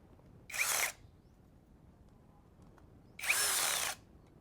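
Two short bursts of a cordless drill whirring as it drives a screw, each under half a second, separated by a quiet pause, close and fairly loud with no talking.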